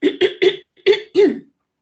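A lecturer makes a run of harsh throat-clearing bursts, four quick ones then a longer rasping one, close and fairly loud with no talking.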